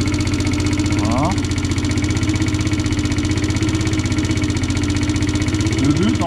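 Kymco Agility 50 scooter engine idling and revving up steadily during a maintenance check, loud and close, a continuous buzzing drone with a brief throttle rise near the start and a person talking over it.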